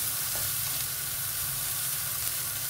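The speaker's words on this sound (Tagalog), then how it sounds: "Lutuin lang natin kunti yung carrot." Carrot frying in a pan for fried instant noodles: a continuous close sizzle with bright hissing and soft stirring scrapes, steady from start to end.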